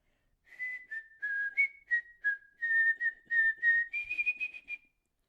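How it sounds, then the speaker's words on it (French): Someone whistles a simple tune alone, clear bright notes in a steady phrased rhythm, close and fairly soft, ending with a quick trill. "met les mains dans ses poches et siffle la mélodie"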